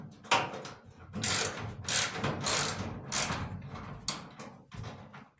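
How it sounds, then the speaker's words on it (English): Ratchet with a 1/4-inch socket clicking while working on a clothes dryer, with uneven bursts of ratcheting and metallic clanks close up. "Just need to go grab a 1/4-inch socket with the ratchet"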